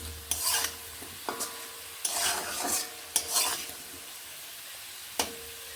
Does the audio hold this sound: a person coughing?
no